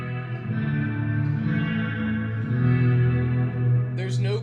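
A Fender Tone Master Pro reverb set to a fully wet 100% mix produces a washed-out guitar tone, a sustained, shimmering cloud of echoing notes with no dry attack, ringing evenly before a brief brighter burst at the end.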